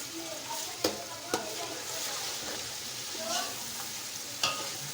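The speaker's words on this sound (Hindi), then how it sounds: "तो ये डाल देंगे इसमें। चम्मच हिलाएंगे।" Spoon stirring whisked yogurt into masala frying in a pot for beef yakhni pulao, with a steady soft sizzle under scraping strokes and a few sharp clinks of the spoon against the pan.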